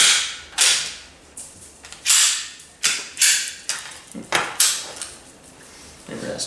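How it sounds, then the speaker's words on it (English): Sig P320 pistol handled as a magazine is inserted, giving a run of sharp metallic clicks and clacks, about eight distinct mechanical snaps spaced unevenly over several seconds, close and fairly loud with no talking. "I had to stick the magazine in the gun in order to turn the trigger on"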